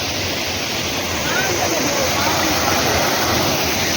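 Loud, steady rush of flowing water, continuous and broadband like a waterfall or fast stream, filling the whole stretch without pause.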